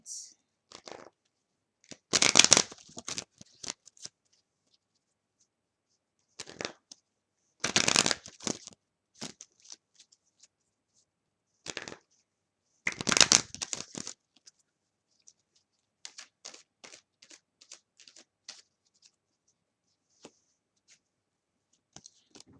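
Oversized oracle cards shuffled by hand in several short bursts of crisp riffling and flapping, close and clear, separated by quiet pauses.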